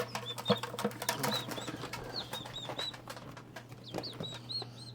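Baby turkeys cheep in a cluster, repeated high chirps scattered over shuffling and rustling, fairly close by, with no talking.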